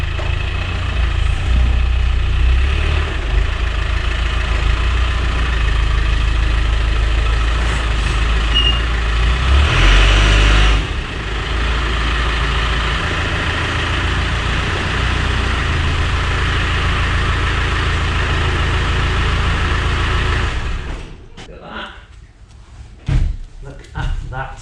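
A Land Rover Defender engine rumbles loud and steady as it drives into a garage workshop, low and continuous for about twenty seconds before dropping away, followed by a few knocks and clatters.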